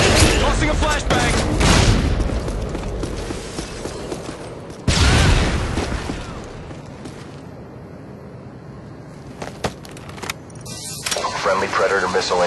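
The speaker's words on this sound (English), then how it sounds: "Tossing a flashbang." Loud blasts from a flashbang grenade in Modern Warfare 2, Search and Destroy on the Terminal map. Two heavy booms land several seconds apart, each with a ringing decay, followed by scattered gunfire-like clatter and game voice callouts.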